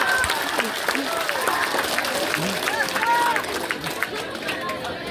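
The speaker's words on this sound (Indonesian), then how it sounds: "Tepuk tangan lagi." Crowd applauding and cheering at an outdoor political campaign rally for a deputy regent candidate in Manggarai Barat, steady clapping under shouting voices and chatter, fairly loud throughout.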